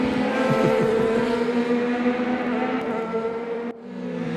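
Formula race cars in a racing video game overtake into Les Combes at Spa, their engines whining in steady high-revving tones that sweep slightly as they pass, loud and close throughout.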